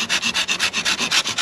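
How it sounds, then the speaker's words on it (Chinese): A hand saw cuts through a thick tree branch during pruning, its teeth rasping in about a dozen quick, even back-and-forth strokes, loud and close with no voices. "处理起这种大一点的枝子，还是用锯子容易多了。"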